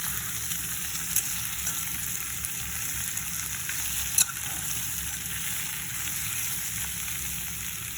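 Potato curry mixture for Mumbai potato curry sizzling in a pan and stirred, a steady dense frying hiss with a couple of faint clinks of the spoon, close and even throughout.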